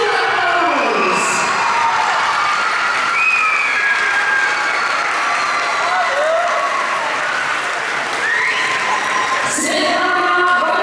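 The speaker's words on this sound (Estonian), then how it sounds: "Suur aplaus!" Loud, sustained applause from an audience at a jubilee concert, with cheering, whoops and children's shouts rising through the steady clapping.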